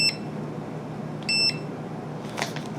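A Bluetooth DVM clamp meter gives short electronic beeps as its select button is pressed: one brief beep at the start, a longer tone about a second later, then faint clicking, all over a low room hum.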